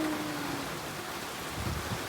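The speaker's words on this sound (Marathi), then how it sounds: "तर मस्त पाऊस आलेला आहे" Rain falls in a steady, moderate hiss with a faint low rumble underneath, continuous throughout and with no voices.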